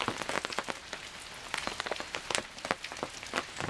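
Rain falls on a camping site, patters of drops tapping a surface nearby in an irregular, fairly quiet scatter with no talking.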